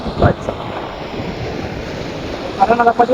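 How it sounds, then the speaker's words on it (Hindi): Flowing river water and gusting wind outdoors near a rural village, a steady broadband rush with louder buffeting bursts at the start and end, no talking heard. "देखो भाई नदी है।"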